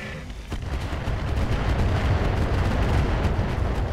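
Sustained heavy weapons fire and explosions pound a Griffin mech in the Roguetech BattleTech game, a loud continuous barrage of booming impacts and blasts with no talk over it.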